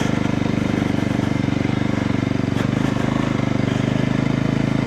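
A VOGE 300 Rally motorcycle riding in second gear, its engine giving a steady, close, loud throbbing drone that holds an even pitch throughout with no voices over it.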